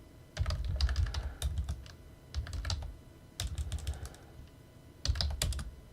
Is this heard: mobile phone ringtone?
no